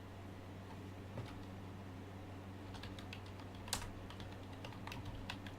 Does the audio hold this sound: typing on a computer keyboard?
yes